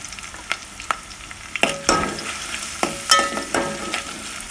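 Onions frying in a pan with salt and turmeric for masala dosa filling: a close, steady sizzle punctuated by repeated clinks and scrapes of a spatula stirring against the pan.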